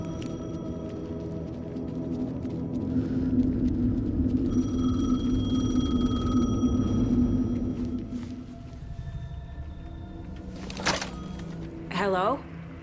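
Payphone ringing in Alan Wake 2, with harmonic ring tones among ambient clatter, door-like thunks and a voice speaking.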